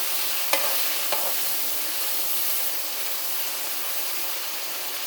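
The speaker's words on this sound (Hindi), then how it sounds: "लहसुन अदरक डाल के भी ज़रा सा इसको भून लें" Garlic and ginger sautéing in a pan for vegetable pulao, a loud continuous close sizzle with a couple of sharp clicks from stirring near the start.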